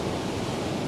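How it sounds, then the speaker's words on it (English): Ocean waves crash steadily at a beach, a dense continuous roar of surf close by with no breaks, no voices over it. "you can hear the oceans crashing there"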